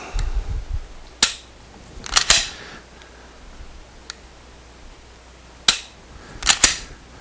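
Smith & Wesson M&P pistol fitted with an Apex trigger kit is dry fired and reset, giving sharp close metallic clicks, a single snap then paired clicks spaced apart, over quiet background with no speech.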